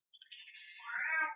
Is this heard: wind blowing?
no